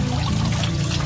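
Dust-laden water dripping from a sunshade into a koi pond, a steady, continuous trickling and pattering that stays close and fairly loud throughout, with no voices.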